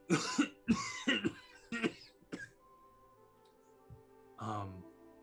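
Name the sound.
imitated coughing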